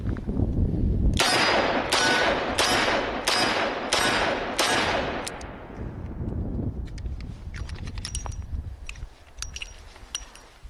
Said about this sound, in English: I shot him 6 times right there, but I only had 5 out of 6